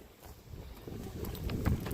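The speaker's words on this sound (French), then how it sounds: "Ça caille, il y a du vent grave." Gusty wind buffets the microphone, a steady rushing roar that builds toward the end, with no voices.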